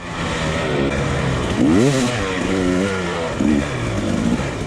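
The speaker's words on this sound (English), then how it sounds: "It's stuck in gear. First gear." An enduro motorcycle ridden on a trail during a hard enduro race while stuck in first gear, its engine loud and close, revving up and down in repeated surges.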